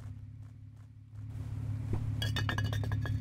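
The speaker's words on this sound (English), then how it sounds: "I'm going to bust out my hammer and upgrade this" A hammer upgrading a pump in the video game Pumping Simulator 2, a quick run of bright metallic clinks near the end over a steady low machine hum.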